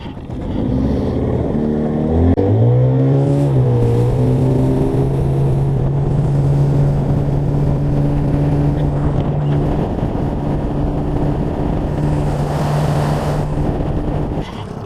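An outboard motor on a fishing boat on a river drones loudly and steadily nearby, its pitch climbing early on before settling into an even, constant hum with water noise.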